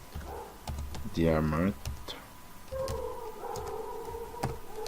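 Typing on a computer keyboard while working in Revit structural software, a quick burst of close key clicks with someone speaking French before and after.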